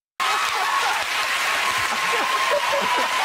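A burst of hand clapping starts abruptly and runs steadily for about three seconds, a close, lively round of applause with a faint chuckle in it.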